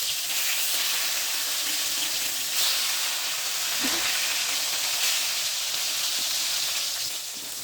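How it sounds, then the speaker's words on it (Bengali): Snakehead (shol) fish pieces frying in oil in a pan over medium heat, giving a steady, even sizzling hiss that fills the clip at a close, moderate level without pause. "আমি মাঝারি আঁচে মাছগুলো ভাজবো"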